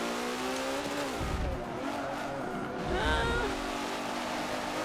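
Aston Martin V12 Zagato race car in Forza 7, its engine droning steadily at high revs with rising and falling harmonic tones as it shifts through a race, loud and continuous.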